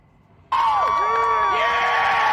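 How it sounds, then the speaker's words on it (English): A crowd bursts into loud cheering, whoops and shrill whistles as an old Las Vegas building is demolished. The cheering starts abruptly after a short quiet moment and stays loud to the end. "They're cheering."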